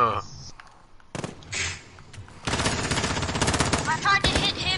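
Bursts of automatic and single gunfire from a PS4 first-person shooter game, loud and dense, coming in several volleys with short gaps, the heaviest sustained stretch in the second half, mixed with game sounds and some talk.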